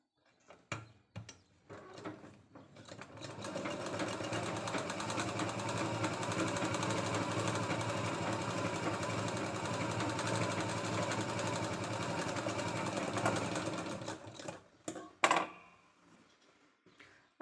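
Sewing machine running steadily as it stitches a katori blouse, a continuous rapid motor hum lasting over ten seconds, framed by brief clicks and handling before and after.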